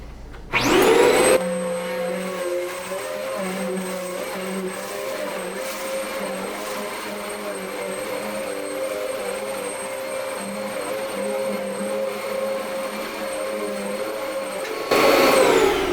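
A Prolux Phantom commercial upright vacuum cleaner switches on and runs with a steady, loud whirring drone and a high whine, then a louder surge at the very end.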